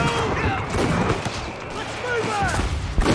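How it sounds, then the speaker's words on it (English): Gunfire rattles through a battle in the video game Company of Heroes 3, with repeated sharp shots and bursts, whistling and booming layered in a dense, loud mix, and voices shouting over the fighting. "Enemy fire is too heavy!"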